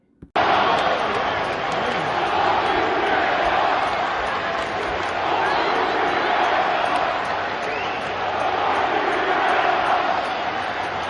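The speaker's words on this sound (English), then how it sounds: "which caused the Houston crowd to start chanting" Houston Rockets fans chant at an NBA basketball game, a loud sustained crowd roar filling a large arena that starts abruptly and holds at a steady level.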